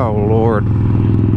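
A Harley motorcycle engine revs hard during a wheelie, loud and close, its pitch climbing and then dropping into a deep, throbbing idle-like rumble.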